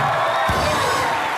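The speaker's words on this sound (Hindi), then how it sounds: "जोरदार तालियां" A studio comedy-show audience claps and cheers loudly in a dense, continuous wash of applause with a brief whoop, close and full for the whole moment.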